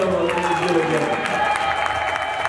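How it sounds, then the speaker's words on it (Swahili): A church congregation claps hands in praise of Jesus, a dense, steady clatter of many palms that fills the whole moment, with voices mixed in underneath. "Pigie Bwana Yesu makofi na makofi."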